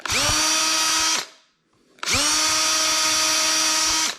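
A drill press bores into wood with a Forstner bit for knock-down joinery mortises, two loud sustained whining runs of about a second and two seconds, separated by a brief quiet pause.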